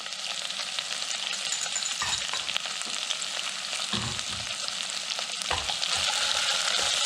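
Carrot, celery, onion and garlic for a lentil soup sizzle loudly in a pot, a continuous close frying hiss broken by a few spoon scrapes as they are stirred, with no talking.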